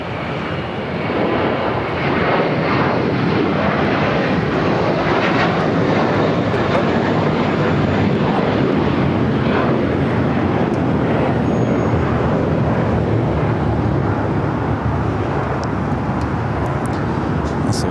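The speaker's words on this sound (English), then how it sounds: "Then American A321 taking off here on the south side" American Airlines Airbus A321 taking off from the south side at LAX, a loud sustained jet engine roar swelling and holding over distant airport traffic noise.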